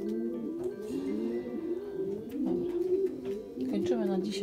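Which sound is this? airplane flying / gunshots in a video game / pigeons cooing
pigeons cooing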